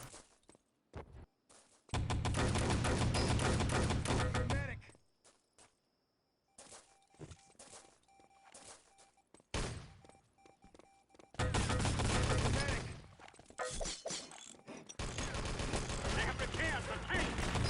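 Bursts of automatic gunfire in a competitive Enemy Territory match, dense loud volleys alternating with short gaps, single shots and small metallic pings.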